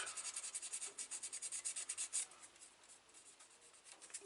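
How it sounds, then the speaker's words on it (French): Paint being scraped off a small DS 21 Pallas model car, a quiet run of quick rhythmic rasping strokes that thins out into fainter, sparser scratches. "Pour une fois, vous me regardez gratter."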